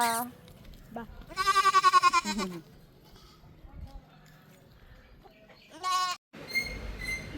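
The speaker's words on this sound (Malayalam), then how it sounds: "ഒരു ആട്ടിൻകുട്ടി അച്ഛനെയും തെരഞ്ഞു വന്നിട്ടുണ്ട്" A lamb bleats near a temple in Attappadi, giving a few loud, wavering calls close by, then a shorter bleat later, with quiet talk and background noise between them.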